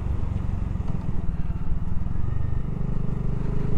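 A BSA 650 Goldstar motorcycle rides along with a continuous, close engine drone and rumble, no talk over it.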